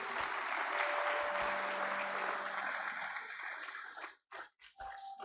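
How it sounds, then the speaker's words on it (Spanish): A church congregation bursts into steady, dense applause for the Lord, loud and sustained for about four seconds, then breaks off into a few scattered final claps. "Dale un aplauso al Señor por eso."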